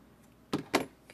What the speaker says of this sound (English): we're gonna grab our scissors and cut that